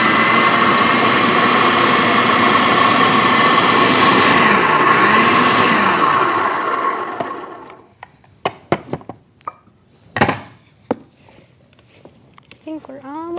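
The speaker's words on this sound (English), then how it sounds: "when you're using a food processor, it's good to always stop and scrape down the sides" A food processor blends raw carob pie filling with a loud, steady whirring roar that winds down after several seconds, followed by scattered clatter and knocks.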